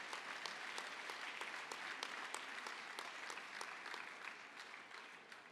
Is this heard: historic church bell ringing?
no